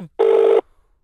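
A single short electronic ring tone from a phone call sounds once, clear and fairly loud, then stops, with quiet surroundings around it.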